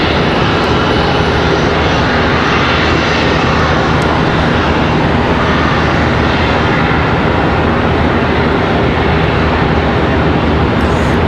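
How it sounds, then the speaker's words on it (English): Contour Airlines Embraer ERJ 145 regional jet taxiing at Charlotte Douglas International Airport, a steady broad engine roar that holds constant and fairly loud for the whole stretch, with no voices. "Contour Airlines on the move, headed to Beckley. Another ERJ 145."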